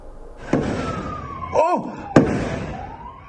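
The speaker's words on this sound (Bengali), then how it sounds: "একের পর এক গুলির শব্দ সিডনির এই সমুদ্র সৈকত জুড়ে" Two sharp, loud gunshots ring out about a second and a half apart at a beach in Sydney, with a rising and falling wail and a brief whistling chirp between them.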